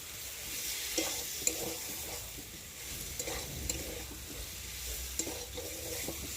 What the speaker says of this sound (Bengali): ভালো করে আলুগুলোর সাথে মশলাটা ভালো করে একটু মিশিয়ে নেব।